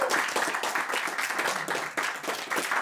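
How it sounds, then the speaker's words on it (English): Steady applause from a cinema audience at a poetry slam discussion, many hands clapping continuously for about three seconds, fairly close and even in loudness. "So also big applause for her interpreter, Simona Kuzmová."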